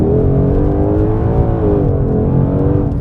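A 2020 Ford Mustang Shelby GT500 launches hard under launch control, its engine roaring loud and close with a deep, steady rising drone.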